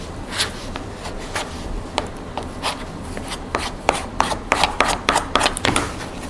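Scissors snip and rustle as paper edges are trimmed on a decorative switch plate, producing a run of quick, close, crisp cuts that grow denser toward the end.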